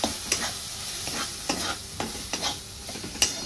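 Mashed potato and milk cream are stirred together in a pan over a low gas flame for batata modak, with repeated spoon scrapes and clicks over a gentle bubbling sizzle, close by, no speech.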